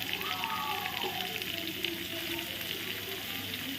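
Finely chopped onions frying in hot oil over spices make a continuous soft hiss with light crackling, while a faint voice talks in the background.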